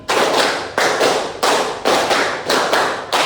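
A standing group in a classroom ice-breaking game claps in counted bursts, about six sharp, loud clusters of hand claps spaced roughly half a second apart, each burst starting crisply and trailing off.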